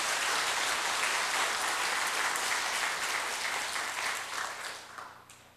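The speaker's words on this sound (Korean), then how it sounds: "목사님 격려의 박수 한번 보내드려야 됩니다" A Korean church congregation at a Sunday evening service gives a pastor a round of encouraging applause, dense and steady at first, then tapering off toward the end.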